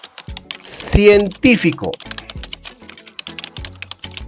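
A computer keyboard clatters with quick, fairly loud keystrokes while entering text into a mind-mapping app, someone speaking Spanish over the first part of the typing.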